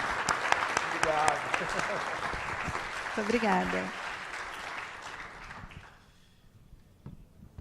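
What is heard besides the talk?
audience applause for birthday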